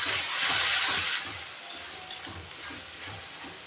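Onions in a pan sizzle loudly as a ginger, garlic, onion and green chilli paste goes in, then settle into a steadier frying hiss with a few sharp spatula clinks and stirring scrapes.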